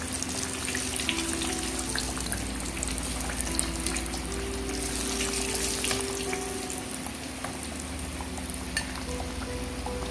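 Fish pieces fry in hot oil, giving a steady, close sizzle that runs without pause, with faint stirring and light watery clatter mixed in.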